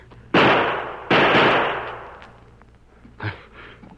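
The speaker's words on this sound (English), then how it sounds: "you've been shooting like a crazy man" Two loud, sharp gunshots from a rifle fired while rested on a branch, each a sudden broadband blast with a lingering tail, followed by a fainter knock and quieter rustling.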